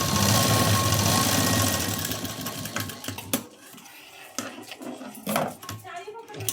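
A sewing machine runs a quick burst of stitching through three stacked layers of cross-strip fabric, buzzing for about two seconds before stopping, followed by soft clinks and handling noises of the fabric and tools.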